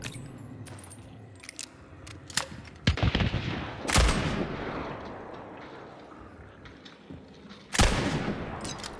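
Video game gunfire in uneven bursts, with several loud sharp shots standing out over a busy background of smaller pops and clatter, no one talking.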